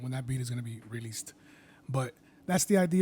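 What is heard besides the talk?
No everyday noises stand out.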